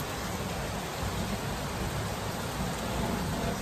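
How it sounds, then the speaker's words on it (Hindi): Heavy rain pours down in a dense, continuous hiss, steady and close, with no voices. "ये देखो कितनी तेज बारिश आ रही है"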